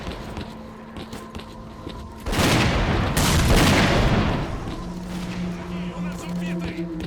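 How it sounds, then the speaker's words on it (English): A grenade blast and bursts of gunfire in the shooter game Stalker: Clear Sky: a sudden loud broadband roar of explosion and shooting lasting a couple of seconds, with a steady hum running beneath and shouting voices around it. "Here, catch a grenade!"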